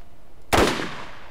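A single loud gunshot in the video game Borderlands, played in third-person view, bursting suddenly out of quiet background hum and trailing off in a short decaying tail.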